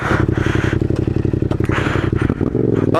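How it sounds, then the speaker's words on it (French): Yamaha MT-07 (2020) twin engine rumbling loud and close with steady pulsing firing beats while riding through winding forest curves, throttle shifting near the end. "je vais vous faire écouter le bruit de la MT dans tout ce qui est virage"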